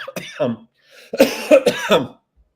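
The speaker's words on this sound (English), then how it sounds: "forgive that cough" A short burst of coughing followed by a throat-clearing, close to the microphone, set among brief pauses.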